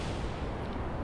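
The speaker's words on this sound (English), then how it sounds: "Yep, there's some explosions." Rumbling in-game rocket explosions from Kerbal Space Program, a dense, continuous low boom and crackle filling the whole moment, loud and unbroken with no talk over it.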